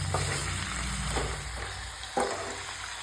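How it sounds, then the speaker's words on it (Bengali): Chicken pieces sauté with spices in a pan, giving a continuous close sizzle broken by a few sharp stirring scrapes. No one talks. "আমি চিকেনটাকে কষিয়ে নিচ্ছি"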